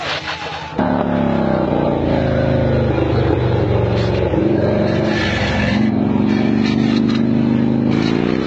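A loud, continuous motorcycle engine roaring and revving steadily, close and dominant throughout with slight changes in pitch.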